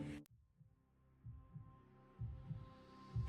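A pounding heartbeat with slow, deep thumps that swell in strength and come in a steady throbbing rhythm over a low hum, building tension in a scary night scene.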